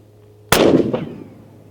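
A single loud rifle shot firing True Velocity plastic-cased ammunition cracks sharply outdoors, followed by a brief echo and fading tail.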